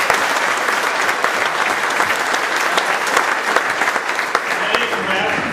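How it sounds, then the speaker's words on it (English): Steady, loud applause from a dinner audience at the Marston Pavilion, dense clapping sustained throughout with faint crowd murmur beneath. "Let's give them a round of applause."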